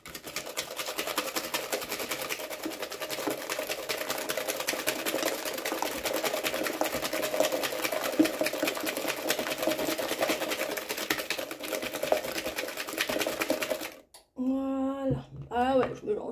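An electric hand mixer whirs steadily through clafoutis batter for apricot clafoutis, a continuous buzzing drone that cuts off near the end, followed by a few brief kitchen noises.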